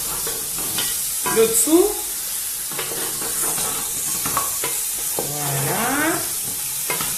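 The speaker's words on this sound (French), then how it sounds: "je vais prendre ma spatule. Je vais remuer." Food sizzles steadily in a hot pan while a spatula scrapes and stirs through it in several sweeps, with a brief spoken remark.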